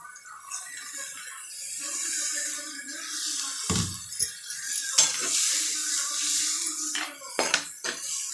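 Water is poured into a pot of tamarind and black nightshade berry curry with splashing surges and clanks of cookware over a constant background sizzle.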